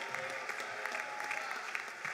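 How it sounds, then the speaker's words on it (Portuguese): A church congregation at a Sunday worship service in Sorocaba applauds in a dense, continuous patter of many hands, steady and moderately distant, without pauses. "Então aplauda ao Senhor."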